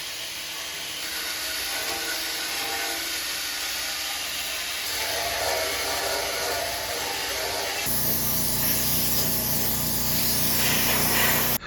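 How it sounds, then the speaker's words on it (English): Rust-Oleum John Deere yellow spray paint hisses out of an aerosol can onto a John Deere LA115 lawn mower in steady, close bursts, with the hiss growing harsher near the end. "Next, I applied 3 coats of Rust-Oleum JD Yellow."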